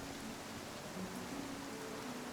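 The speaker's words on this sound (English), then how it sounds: "Oh good, it's storming." A rainstorm in the video game Pathfinder: Kingmaker, a steady dense hiss of falling rain filling the space evenly, with no voices.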